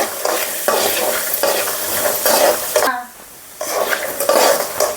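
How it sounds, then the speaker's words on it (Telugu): Snack ingredients fry with salt in a pan, crackling loudly and continuously while a spoon stirs and scrapes the metal, broken by a brief quieter pause midway. "మంచిగా వేపుకోవాలి"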